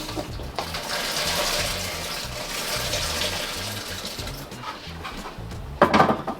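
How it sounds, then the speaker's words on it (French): Aronia berries boiling in water in a pot on a stove, a steady bubbling wash throughout with a brief clatter near the end. "notre eau est en train de bouillir"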